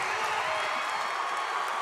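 A home basketball crowd in a high school game roars and cheers right after a three-pointer, a dense, steady wall of noise that holds at full volume with no break.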